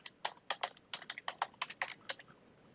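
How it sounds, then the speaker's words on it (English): Quick, crisp clicks of typing on a computer keyboard, a rapid irregular run of about two dozen keystrokes, close and fairly quiet with no talking. "I can type in ClickDesigns"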